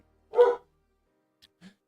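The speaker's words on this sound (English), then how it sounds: "Dang dogs. Sorry." A dog barks once nearby at moderate loudness, followed by a couple of faint, brief yips or whimpers after a pause, with otherwise quiet surroundings.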